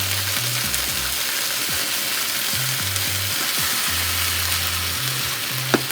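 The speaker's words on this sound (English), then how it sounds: "Yeah, so I'm just frying it dry." Continuous sizzling of salt fish frying dry without oil in a pot, a steady hiss with low hum tones underneath and a small knock near the end.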